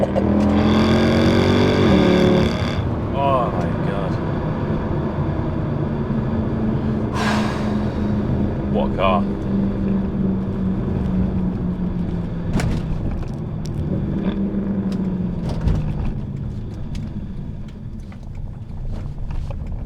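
A Mercedes C63 engine revs hard on downshifting, giving a loud, deep roar that rises and falls with each gear drop and then settles into a sustained rumble heard from inside the car.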